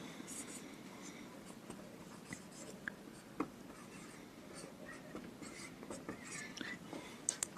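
Pen scratching on paper while writing out an English composition, soft irregular strokes and taps close by, under a quiet voice speaking.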